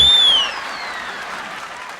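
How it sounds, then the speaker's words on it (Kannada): An audience claps steadily for a couple of seconds on a comedy stage show, a dense, loud wash of applause that opens with a brief falling whistle. "ಒಳ್ಳೆದ ಚಪ್ಪಾಳೆ ಬಡಿರೋ"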